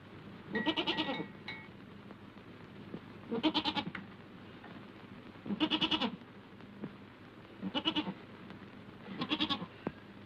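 A goat bleats five times in evenly spaced, wavering calls, close and clear over a faint steady hum in a 1937 film soundtrack of Heidi.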